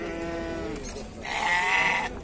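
Sheep and lambs bleating at a livestock market in Beylagan, Azerbaijan, with a couple of wavering, nasal bleats close by, the second louder and higher, over a low market background.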